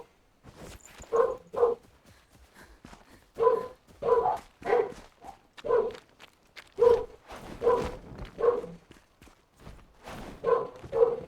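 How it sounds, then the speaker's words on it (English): A dog barks repeatedly in short bursts and doubled yaps, moderately near and fairly loud, with brief pauses between volleys and no talk. "He barks at the neighbors for letting their dog out in their own yard."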